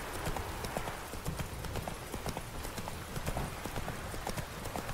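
Horse hooves clip-clop at a steady trot while riding in The Witcher 3, a dense continuous rhythm of hoofbeats at moderate volume over a constant ambient background.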